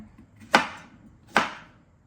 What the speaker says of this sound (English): So I'm gonna get to chopping that.